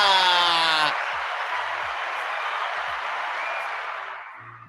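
Studio audience clapping on a talk show, a broad burst of applause that starts loud, holds steady for a few seconds, then gradually fades out.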